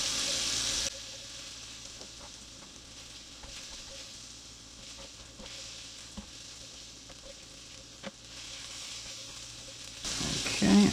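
Eight cloves of minced garlic frying in a pan for chicken parm, a steady soft sizzle with light stirring taps, louder bursts at the start and end, no talking.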